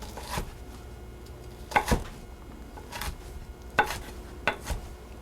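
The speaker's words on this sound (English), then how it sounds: "now I'm going to chop these down into little chunks" Knife chopping peppers into little chunks on a cutting board while making Chicken Riggies sauce: a few separate, sharp thuds spread irregularly and heard up close, with no talking.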